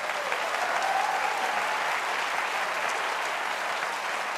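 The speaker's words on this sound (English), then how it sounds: "A nice round of applause for all of them." A large audience at an evening awards ceremony gives a steady, sustained round of applause, a dense even wash of clapping heard from a distance with no speech over it.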